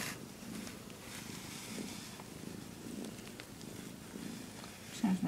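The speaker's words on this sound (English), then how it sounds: "Sounds like she's purring now" A kitten purrs steadily in a low continuous rumble, close and fairly soft, with a brief louder rustle near the end.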